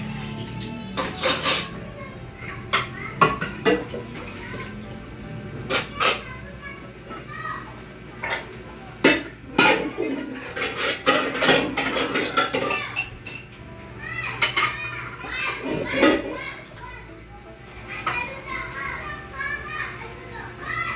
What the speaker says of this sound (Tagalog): maghugas ng pinggan